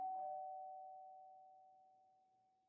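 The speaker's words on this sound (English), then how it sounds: "our negotiator fixes her hair and rings the doorbell" A single clear video game doorbell chime, a pure ringing tone that starts bright and slowly fades away into silence.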